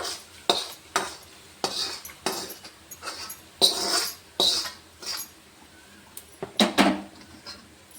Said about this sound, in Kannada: ಈಗ ಫಸ್ಟ್ ಒಂದು ಸ್ವಲ್ಪ ಚಮಚಲ್ಲಿ ಮಿಕ್ಸ್ ಮಾಡಮ್ರಿ.